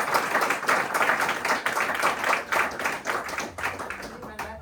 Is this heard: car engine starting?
no